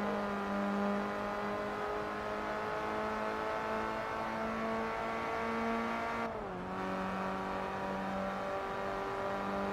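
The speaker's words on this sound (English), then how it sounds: "Electric car sound." Steady electric motor whine of a car in Forza Motorsport 3, a sustained tonal buzz that holds level and dips briefly in pitch partway through, loud and continuous with no talking.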